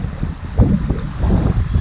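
Wind gusts buffet the microphone beside the Prut river at Sadoveni, a loud low rumble swelling and easing in uneven waves with no voices.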